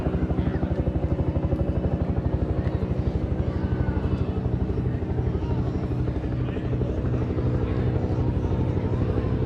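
A Huey helicopter thumps steadily overhead in a Memorial Day flyover, loud and continuous with a deep rhythmic rotor chop and engine drone throughout.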